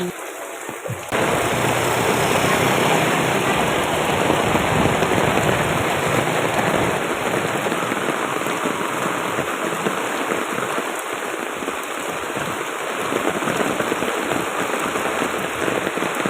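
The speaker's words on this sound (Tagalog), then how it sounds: "malakas ang ulan" Heavy rain pours steadily and loudly on surfaces near a market, a dense continuous roar with a faint voice briefly at the start.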